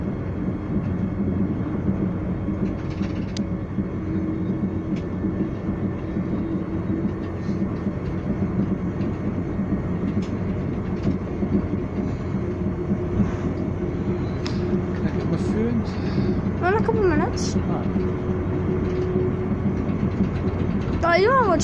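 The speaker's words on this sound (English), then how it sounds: "Just on the train" Continuous low rumble and rattle of a moving train between Edinburgh and Falkirk, steady and fairly loud for the whole stretch, with a few faint squeals near the end.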